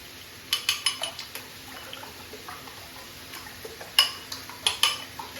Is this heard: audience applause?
no